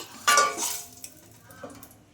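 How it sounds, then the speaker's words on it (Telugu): Boiled potato pieces hit hot oil with a sudden burst of sizzling that quickly fades into a quieter crackle, followed by a few soft utensil clinks and stirs nearby. "ఇదే ఆయిల్లో ఉడికించిన ఆలు ఇలా పీసెస్ అయితే కట్ చేసుకున్నానండి వీటిని కూడా వేసి ఫ్రై చేసుకోవాలి"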